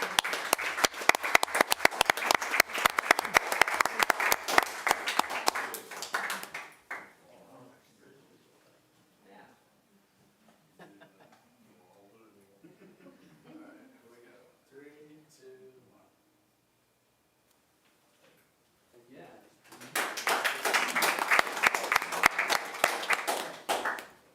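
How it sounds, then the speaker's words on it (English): At a city council award ceremony, an audience claps loudly and densely, fades into quiet talking, then breaks into a second round of strong applause near the end. "let's give them some applause as they make their way up to accept their award"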